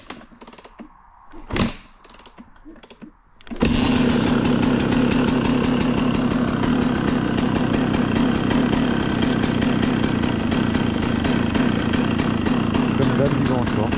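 A KTM supermoto motorcycle engine, running slightly lean, idles loudly and steadily after a few knocks and a brief pause, its rapid rhythmic chugging continuing close by.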